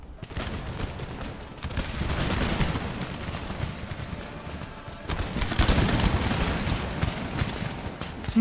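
Massed musket volleys crackle in an Empire: Total War battle, dense rolling fusillades swelling and fading in waves, with sharp individual shots cutting through a continuous din of gunfire.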